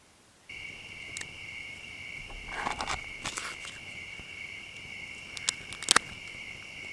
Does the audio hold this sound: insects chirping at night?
yes